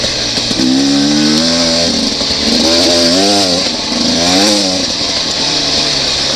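A Beta 300RR dirt bike engine revs hard on dry ground, its pitch climbing and falling in repeated throttle surges, loud and close throughout with no talking.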